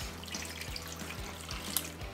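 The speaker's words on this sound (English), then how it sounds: "We're going to be adding water, and in this case, 4 cups." Water pours steadily into a cooking pot for rendering beef fat, a continuous splashing trickle with a faint rhythmic low thumping beneath it.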